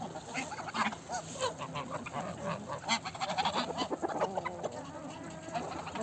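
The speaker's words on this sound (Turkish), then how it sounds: "Şöyle gazlar, tavuklar hepsi bir aradayken" Geese honking repeatedly in a busy farmyard chorus, mixed with chickens clucking, fairly close and continuous throughout.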